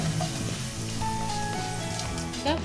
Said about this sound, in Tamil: பாவக்காய் பொரிஞ்சிட்டுது.